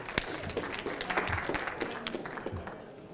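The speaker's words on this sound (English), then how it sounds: "hand of applause for the volunteers" Volunteers at a masterclass presentation receive a short round of audience applause, a steady patter of hand claps at moderate level lasting a few seconds with a faint voice mixed in.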